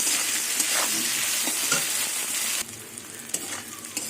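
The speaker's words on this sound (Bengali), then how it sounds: "ভাজাতে কোনো ঢাকা দিয়ে ভাজছি না কেন আলুগুলো একদম পাতলা পাতলা করে কাটা আছে" Thinly sliced potatoes fry in an uncovered pan with a loud, steady sizzle and occasional stirring clicks, dropping to a softer crackle partway through; no one speaks.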